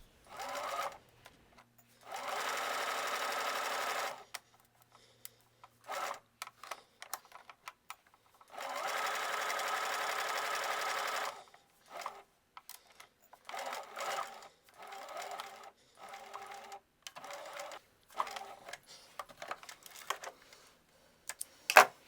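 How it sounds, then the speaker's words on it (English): Sewing machine stitching the side seams of a skirt at 5/8 inch, running in several bursts of rapid mechanical whirring of varying length separated by pauses, with faint handling noises in between. "Now you can continue with pattern pieces number 2 and 3. You're going to sew both sides at 5/8 of an inch."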